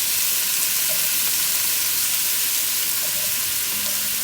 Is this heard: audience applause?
no